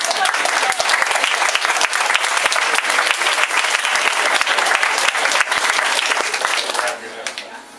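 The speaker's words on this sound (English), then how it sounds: "One last big time round of applause." A crowd at a volleyball team-of-the-year award presentation breaks into loud, sustained applause with dense clapping and some cheering, continuing steadily before tapering off near the end.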